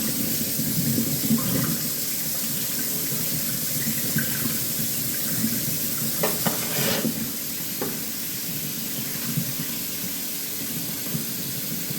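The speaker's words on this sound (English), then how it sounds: "So now we're going to give this a good rinse." Tap water runs steadily over pieces of rib meat sitting in a kitchen strainer, a loud continuous splashing hiss with a few brief clinks partway through.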